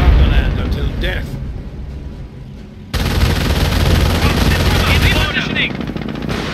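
Machine gun fire from the Company of Heroes war game fills the mix. Bursts rattle loudly and nearly continuously, with a brief quieter gap before the firing resumes heavily alongside explosions and battlefield noise.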